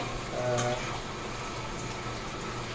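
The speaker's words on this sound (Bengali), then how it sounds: "এই যে চিকেন চিকেন ভাজা চলছে" Chicken pieces fry in a pan for chili chicken, giving a steady, close sizzling hiss that runs throughout, with a brief soft voice near the start.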